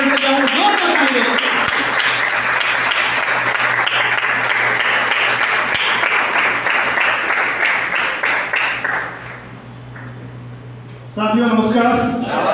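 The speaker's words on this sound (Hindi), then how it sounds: "तो दोस्तों जोरदार तालियों के साथ मैं सबको माइक करना चाहूंगा, जोरदार तालियों" Loud applause from a training session audience fills the room for several seconds, steady and dense, before fading out. A voice starts speaking near the end.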